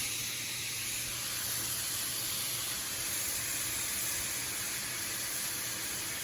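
Ground meat sizzles in a pan with onion and garlic for lasagna, a steady broad hiss that stays even and close throughout, with no talk over it.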